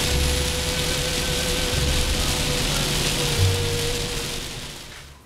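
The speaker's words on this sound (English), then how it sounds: "Boy, look at this rain." Heavy rain pours steadily and close, a constant hiss of falling water with a faint low hum beneath, fading slightly at the end.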